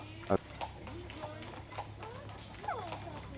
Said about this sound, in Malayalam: ഈ കുതിര കാണാൻ കുതിരവണ്ടി കാണാൻ നല്ല ഭംഗിയാട്ടോ